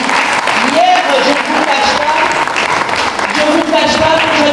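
An audience applauds at a ceremony honoring athletes, with a dense, steady clapping that holds at one loud level and stays close throughout, mixed with crowd noise and a voice rising over it.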